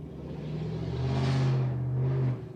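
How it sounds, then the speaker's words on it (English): A single car passes close by outside on a noisy street, its engine rumble swelling and fading over a couple of seconds with steady traffic noise beneath and no talking. "You hear that car?"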